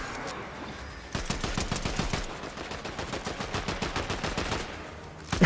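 Fortnite gunfire shooting at minions, a rapid automatic stream of close, evenly spaced shots starting after a brief quiet lead-in and running steadily to the end.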